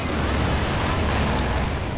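A strafing run in the video game Company of Heroes 2 hits with explosions, a dense, loud, continuous roar of blasts and rumble lasting the whole moment, with no talking.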